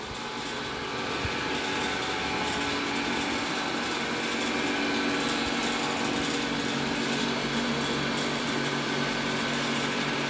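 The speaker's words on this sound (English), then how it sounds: "Suction from raw sewage" A raw sewage transfer pump at a sewage treatment plant runs in a steady, dense mechanical whine and hum, continuous and unchanging, heard close up.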